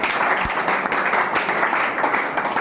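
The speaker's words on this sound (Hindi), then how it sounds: "इस प्रकार ताली।" Class 10 students clap at a school quiz competition, a continuous, fairly loud roomful of hand clapping with an even texture and no clear pauses.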